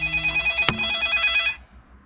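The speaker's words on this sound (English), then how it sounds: "Phone ringing." A telephone rings loudly and continuously in a workshop, then cuts off near the end, with a sharp click partway through the ring.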